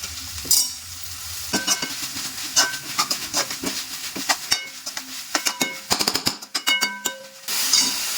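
Ginger garlic paste fries in a pan for a bachelor-style chicken dish, a close sizzle broken by quick, uneven scrapes and clacks of a spoon stirring against the pan.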